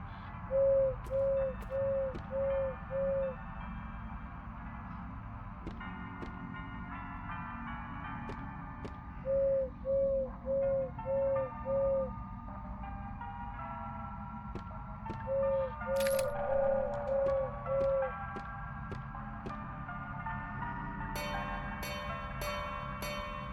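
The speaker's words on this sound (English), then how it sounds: "It's an animatronic bird. He's hootin' and hollerin'. He seems like he hoots 5 times and stops." An animatronic owl in the game Crow Country hoots in sets of five evenly spaced, mid-pitched coos, repeated three times with pauses between, over soft music and ambient tones.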